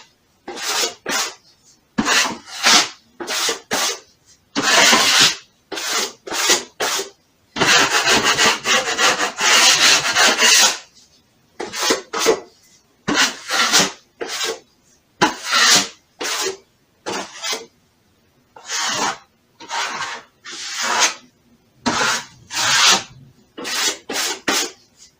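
Joint compound is scraped off a wall in repeated rasping strokes with short gaps, plus one longer sustained scrape, close and loud with no talk.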